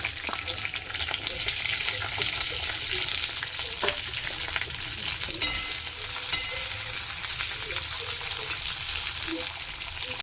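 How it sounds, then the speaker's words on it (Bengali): Chopped onion and capsicum sizzle steadily in hot oil, a loud, continuous crackling fry that runs unbroken throughout. "তেলটা গরম হয়েছে, দিয়ে দিচ্ছি পেঁয়াজ, শিমলা মির্চি কেটে রেখেছি"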